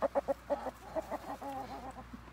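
Chickens clucking in a backyard chicken yard, a quick run of short, fairly loud clucks followed by drawn-out, warbling calls, with no talk.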